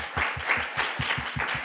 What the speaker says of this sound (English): Y'all deserve a big round of applause for that